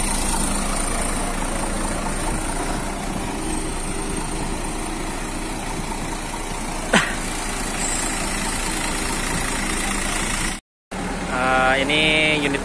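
A Pandawa 87 double-decker coach idles at the busy Kalideres bus terminal with a steady, continuous engine drone. A brief sharp sound cuts through midway, and after a short gap other terminal noise and faint voices come in.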